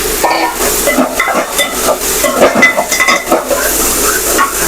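Onion and ridge gourd sauté in a pan with a steady close sizzle, while a spoon scrapes and stirs against the metal in a repeated rhythm.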